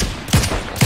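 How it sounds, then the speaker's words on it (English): A rocket launcher fires in the battle royale game Fortnite, two sharp low blasts close by, each with a whooshing tail, spaced about half a second apart over a steady background roar. "who's shooting a rocket like an idiot?"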